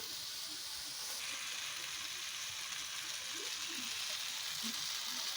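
Chopped tomato tipped into a hot pan while cooking a potol (pointed gourd) curry, giving a loud, steady hiss and sizzle that stays strong and continuous throughout, close up and without talking.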